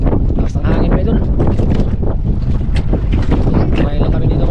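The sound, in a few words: strong wind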